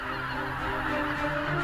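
A flock of geese foraging in the Biebrza Valley marshes honks in a dense, continuous chorus, many overlapping calls blending into a steady wash of sound.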